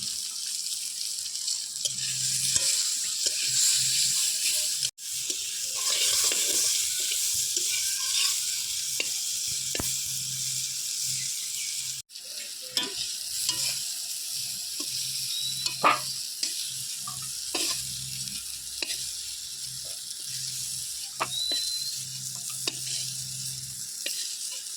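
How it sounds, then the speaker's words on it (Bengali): Potatoes frying in a pan of oil while being made for Bengali rui macher jhol, a steady close sizzle with occasional stirring and scraping clicks, no voices. "আলুগুলো ভেজে নেব।"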